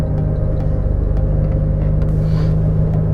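Loud purple Chevrolet Camaro rumbling nearby, a heavy continuous low engine drone close by that stays steady without clear pass-by change.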